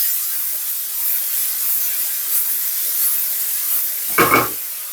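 White onion, garlic, peppers and tomato sizzle in a pan with a steady, bright hiss, then a short clunk sounds near the end.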